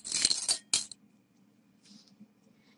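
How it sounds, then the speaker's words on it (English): Dry, brittle eggshells rattle and clink in a bowl in two quick bursts, followed by a faint shuffle. "you can hear that they're dry because they have a very crisp sound to them in the bowl"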